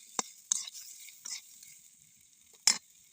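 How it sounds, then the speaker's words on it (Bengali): Soybean curry with turmeric and Kashmiri chilli powder being stirred in a pan: a few sharp, separate scraping strokes of a spatula against the pan over a near-silent background, close and fairly loud. "এবার সব কিছু দিয়ে ভালো করে নাড়াচাড়া করে কষিয়ে নেব।"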